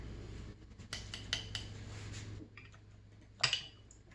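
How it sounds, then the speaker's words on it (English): A spoon is run around inside a hot glass jar of pear preserves to release bubbles, giving light scraping and clinking taps with one louder clink near the end, close by and without speech. "You just want to run a spoon or something flat around in there"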